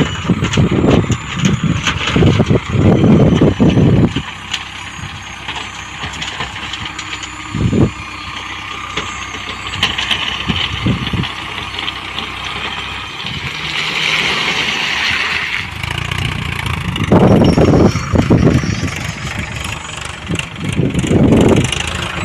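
A tractor-driven stone-collecting machine runs loud and close, its engine droning steadily with heavier surges and clattering bursts throughout.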